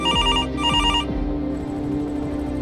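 An in-game telephone rings in Grand Theft Auto V, two loud electronic ring bursts in quick succession followed by a fading tail, heard close and alone.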